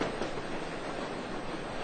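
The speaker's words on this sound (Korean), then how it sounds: "열차는 캄캄한 어둠 속을 달리고 있었다." A train runs on rails through darkness, a continuous muffled rumble and rattle at even loudness, heard alone as a short effect in a radio drama reading.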